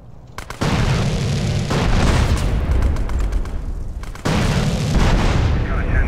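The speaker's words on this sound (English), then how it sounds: "Who's shooting at me?" Gunfire and explosions in the video game GTA San Andreas, with sharp shots followed by heavy booming blasts and rumbling bursts, loud and close, continuing throughout.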